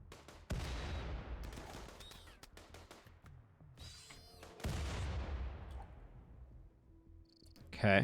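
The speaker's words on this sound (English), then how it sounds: "Stop throwing grenades." Grenade blasts in the colony game RimWorld, two heavy booming bursts with long rumbling decay and scattered cracks between them, loud and close, with a sharp burst at the end.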